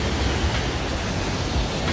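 Jaein Waterfall, about 18 m high, dropping into a pool at the bottom of a basalt-columned gorge, heard as a steady, dense, unbroken roar of falling water with no voices.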